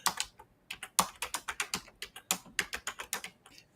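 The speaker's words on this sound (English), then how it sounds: "My husband doesn't understand how I can type and not look at the keyboard." Rapid keystrokes clatter on a computer keyboard in uneven bursts, close and crisp, with no voices.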